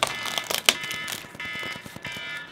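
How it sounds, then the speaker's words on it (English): A timer alarm sounds in a gaming room, a bright repeating electronic beeping that pulses steadily and loudly throughout, with no talking. "every time I stream, you guys hear my timer go off."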